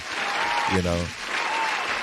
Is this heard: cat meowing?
no